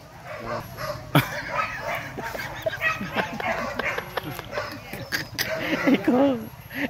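Hunting dogs bark and yip repeatedly, with some whimpering, on a hunt in the hills of Bukik Kanduang, while people talk over the barking throughout.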